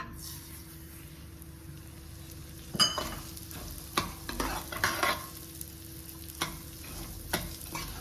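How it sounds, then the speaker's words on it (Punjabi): Broken wheat (daliya) roasting in ghee over a medium flame, a soft steady sizzle with scattered louder stirring scrapes and clinks through the middle, close and without talk. "ਲਓ ਜੀ ਹੁਣ ਇਸੇ ਘਿਓ ਦੇ ਵਿੱਚ ਆਪਾਂ ਜਿਹੜਾ ਦਲੀਆ ਵੀ ਰੋਸਟ ਕਰ ਲਾਂਗੇ ਦਲੀਆ ਪਾ ਦਾਂਗੇ"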